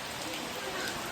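Heavy rain pours down outdoors, making a dense, steady hiss that stays loud and unbroken throughout.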